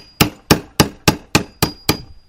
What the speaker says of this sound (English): I'm going to start to chip this out all the way around, following that line,